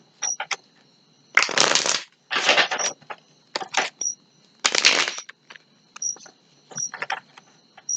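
A tarot deck is shuffled in several quick, papery riffling bursts with short pauses between them, close and fairly loud, with faint chirping in the quiet gaps.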